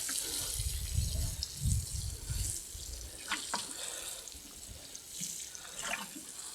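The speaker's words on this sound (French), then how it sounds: "j'hésite pas à mettre l'arrosoir un peu haut. pour que les gouttelettes prennent de la force" A watering can held high sprinkles water droplets onto garden soil in a vegetable bed planted with parsley and chives, giving a steady close splashing patter with a few heavier thuds and drips.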